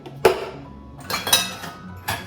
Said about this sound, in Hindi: तो चलिए, मैं यहाँ पे अपने बर्तन जमाती हूँ